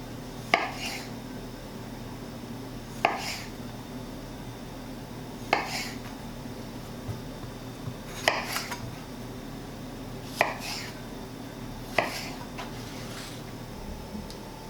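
Knife strokes slice through cherry and Roma tomatoes, giving six or so sharp, evenly spaced clacks against a cutting board over a faint, steady room hum, with no talking.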